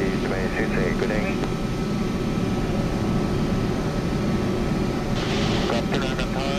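A Cathay Pacific Boeing 747-200 in Flight Simulator X taxiing at Hong Kong, its jet engines giving a loud, steady, continuous rumble and whine that never lets up, with radio voices talking over it.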